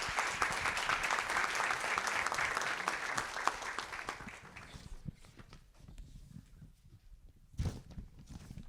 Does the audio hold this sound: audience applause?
yes